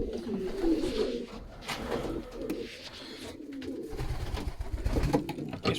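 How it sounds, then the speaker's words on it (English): Stock pigeons coo in soft, low, repeated throaty bursts inside a loft, close by and fairly quiet, with faint rustling around them. "Another Mysterio pigeon, made by Cerebros and Louis"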